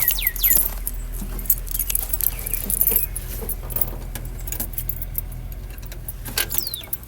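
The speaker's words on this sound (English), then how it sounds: "let's put the keys in the ignition" Car keys for a Model T Ford jangle and clink repeatedly up close, bright metallic rattles over a low engine-room hum, with no one talking.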